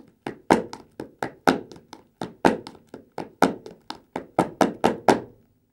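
Foot stomps from a Hungarian folk dance from Szék, landing as a steady run of about twenty sharp, close thuds in an even rhythm, with no other sound between them.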